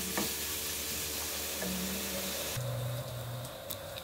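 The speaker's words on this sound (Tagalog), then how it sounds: "Haluin natin." Egg roll filling is stirred in a hot frying pan with a steady oil sizzle. Scraping and stirring noises come through clearly up close, and nobody speaks.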